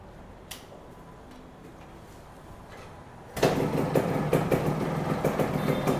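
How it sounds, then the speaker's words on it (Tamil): A two-wheeler engine starts abruptly after a quiet stretch, then settles into a steady, fairly close idle with a rapid ticking pulse. "இப்போ தம்பி வந்து ஸ்டார்ட் பண்ணி வண்டியை டெலிவரி எடுக்க போகிறாங்க."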